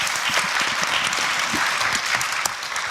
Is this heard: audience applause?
yes